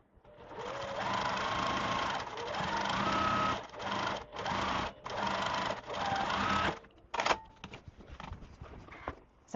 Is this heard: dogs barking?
no